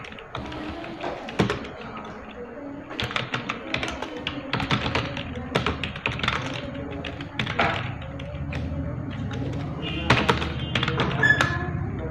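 Surnames typed into an Excel spreadsheet on a computer keyboard give a string of irregular close tapping keystrokes, with soft thuds and brief pauses between bursts.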